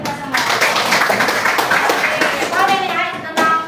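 A classroom of students claps hands together in a loud, close burst of scattered rapid claps lasting a few seconds, with children's voices mixed in.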